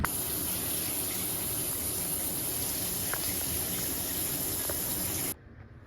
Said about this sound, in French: je vais aller prendre ma douche, je pense là